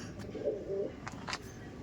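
Soft, low cooing of Andhra pigeons, male and female, a couple of murmuring calls close by, over a quiet background with a few faint knocks.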